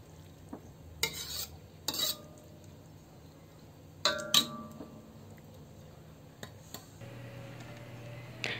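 Metal spoon stirring laing, taro leaves, in a cooking pot, with quiet scraping and several sharp clinks against the pot at irregular intervals over a low sizzle.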